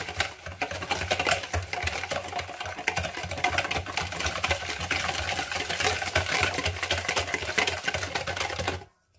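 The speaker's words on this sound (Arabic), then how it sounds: "هقلبهم كويس جدا مع بعض لحد ما السكر يدوب وكل المكونات تدخل في بعض." An electric mixer whisks sugar, egg and vanilla together for a biscuit dough, a steady close whirring buzz that runs throughout and then cuts off at the end.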